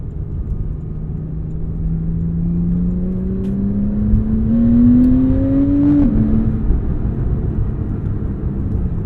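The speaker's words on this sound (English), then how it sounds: "Those intakes really kind of bring out the sound in this car." A 2014 Porsche 911 Carrera S engine climbs steadily in pitch through its intake and exhaust, its note rising and growing louder over several seconds, then dropping sharply at a gear change, with no one talking.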